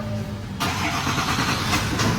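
A car engine starts and settles into a steady mid-pitched idle-to-drive hum as the mayor pulls away, close and continuous with no talk.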